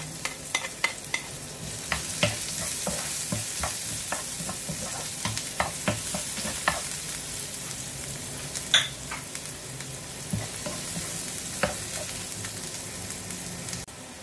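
Squid stir-frying with ginger and garlic in a hot pan gives a steady close sizzle, with scattered crackles and spatters and a few sharper pops throughout.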